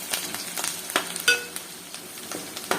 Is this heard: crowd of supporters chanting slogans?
no